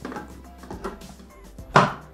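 Thermomix bowl blade chopping kiwi with sugar: a short rattling, clattering burst of fruit and sugar against the jug, loudest near the end.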